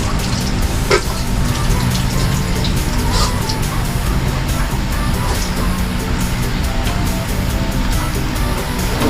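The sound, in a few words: washing up under running tap water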